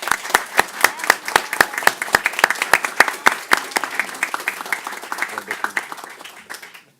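Audience applause starts with rhythmic, unified clapping, then loosens into scattered, fading claps from a smaller crowd nearby.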